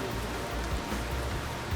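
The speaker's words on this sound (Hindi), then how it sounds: "फाइनल बारिश तेज हो रही है" Steady rain hisses continuously, a dense wash of falling drops with no pauses.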